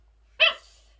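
A dog gives a single short, sharp bark indoors, close and fairly loud against an otherwise quiet room.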